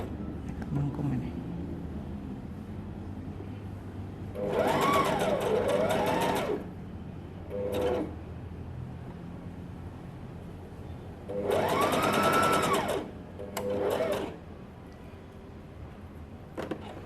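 A sewing machine stitches fabric for women's pajamas with red thread, running in bursts: two long steady runs and a couple of short spurts, with a person talking between and around them.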